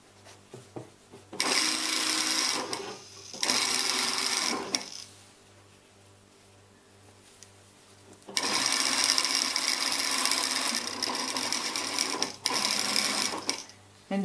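A sewing machine stitches along the joined seams of a neck support pillow, whirring in steady runs close up with a short gap between passes and a faint low hum throughout.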